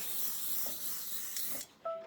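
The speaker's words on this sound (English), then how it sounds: "I'm going to go ahead and spray this" A spray bottle lets out a continuous hissing mist for about a second and a half over quilting fabric, then stops abruptly, followed by a brief faint tone.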